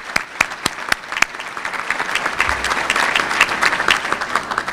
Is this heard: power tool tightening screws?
no